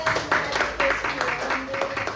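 Audience members in a classroom teaching session clap briefly and unevenly, fairly quiet, with faint talk and a tonal background hum beneath.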